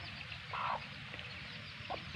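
A native country hen from a home breeder clucks softly while guarding her chicks among coconut trees, giving a couple of short, fairly quiet clucks over faint background ambience.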